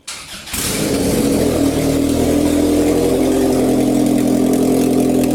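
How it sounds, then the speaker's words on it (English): A Honda Accord engine, its manifold still off, cranks and catches after a brief pause, then settles into a loud, steady idle with a constant low drone that continues to the end. "She's running. The manifold is off still, but she's running, like, on her own."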